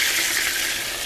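Water poured into a hot frying pan holding beef patties and sausages gives a loud, steady hiss and sizzle, close and continuous with no talk.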